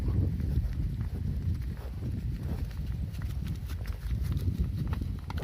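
A herd of water buffalo plods along steadily, many overlapping hoof steps thudding close by in a continuous, low rumbling shuffle.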